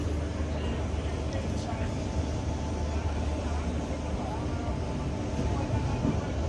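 Gyaneshwari Express pulling out of a platform at Tatanagar station, heard as a steady, low rumble of rolling wheels and carriages under a continuous broadband wash, with no clear individual clanks standing out.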